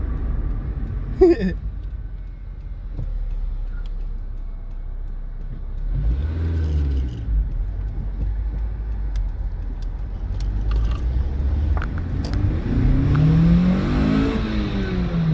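A Honda VTEC car engine revs up and falls back in a few swells, pitch rising sharply toward the end as VTEC engages, with a brief jangle early on and a quiet interior.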